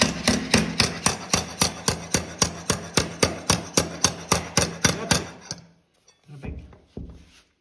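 Hammer blows driving parquet flooring boards into place, a steady run of about sixteen sharp, loud knocks at an even rhythm, then a pause and a few softer scraping thuds.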